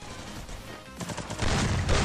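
Gunfire in a video game, a rapid burst of sharp shots rattling over the last second after a quieter stretch of game sound.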